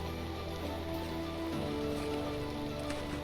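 Rain in the video game Vintage Story falls as a steady, dense patter over a low continuous wash of ambient noise, moderately quiet and unbroken throughout.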